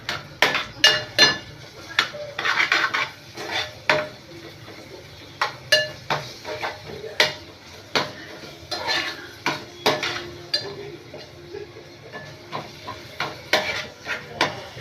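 Steady stirring in a pan as onion is mixed with homemade ginger garlic paste, a spoon repeatedly scraping and clinking against the metal in an uneven rhythm, close and clear, with a faint sizzle beneath.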